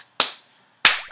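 Two sharp, isolated hand claps sound close by, nearly a second apart and separated by near silence, during a game-show-style play session.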